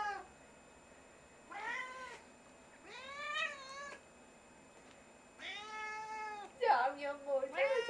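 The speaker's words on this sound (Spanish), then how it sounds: "Primer gato que yo le pongo eso y llora así." A pet cat cries and meows in close, drawn-out wails, several separate calls with short pauses between them, ending in a louder, more agitated burst.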